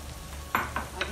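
Sliced mushrooms tipped into a pan of frying courgette, a steady low background hiss with three short close bursts of sizzling and stirring scrapes in quick succession.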